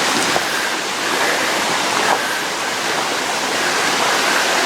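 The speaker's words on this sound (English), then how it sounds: "Oh my goodness, there's so many waterfalls around here." A waterfall roars as a dense, steady rush of falling water, loud and close, continuous with no break and no voices.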